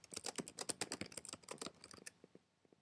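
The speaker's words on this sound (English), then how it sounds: "Type in your note." Fast typing on a computer keyboard, a quick flurry of crisp key clicks that slows and thins out near the end, close and fairly quiet with no talking.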